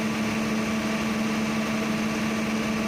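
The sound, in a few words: diesel generator set running at a power plant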